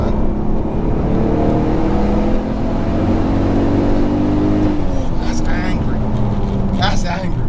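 A turbocharged 462 bhp Volkswagen Golf R32 engine revs hard and loud, its pitch holding high before sliding down, a steady aggressive drone close by.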